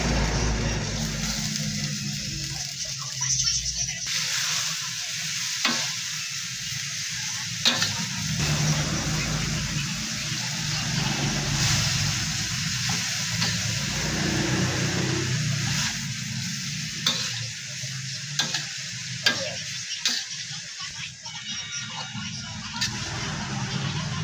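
Bean sprouts for lumpiang toge fry in a pan with a loud, steady sizzle broken by occasional stirring scrapes, while a person talks over the cooking.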